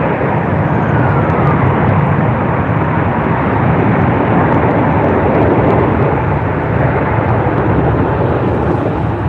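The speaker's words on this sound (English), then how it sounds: "We were all waiting for Emirates A380 from Christchurch." An Emirates Airbus A380 from Christchurch at Sydney Airport gives off a loud, continuous engine rumble and roar that holds steady throughout, with no voices.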